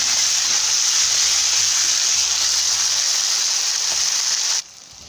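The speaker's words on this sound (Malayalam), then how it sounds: "3 തക്കാളി ഇതിലേക്ക് ആഡ് ചെയ്യാം." Three tomatoes fry in hot oil with golden onions for a chicken curry, making a loud, steady, close sizzle that holds evenly, then drops off abruptly just before the end.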